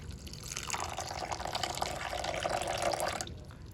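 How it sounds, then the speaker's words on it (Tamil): Water trickles steadily from a faucet or is poured for a cornflour batter for fish cutlets, a soft continuous splashing stream lasting about three seconds before it stops, quiet and close with no talking. "கார்ன்ஃப்ளவர் மாவில் கொஞ்சம் தண்ணி ஊற்றி கட்டி இல்லாமல் அதில் டிப் பண்ணணும்."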